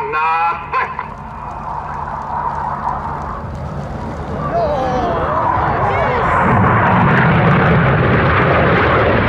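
Red Arrows display jets roar overhead at an air show, a broad engine rush that swells and grows louder as the aircraft pass, with a voice talking at the start and crowd noise underneath.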